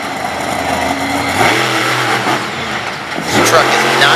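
A high-horsepower monster truck engine at a night show after a wheelie competition revs hard in loud rising surges with low rumbling harmonics, climbing twice over a steady crowd-and-arena din.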